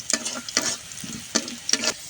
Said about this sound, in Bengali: এবার দিয়ে দিচ্ছি জিরা, লাল লাল করে ভেজে নিব।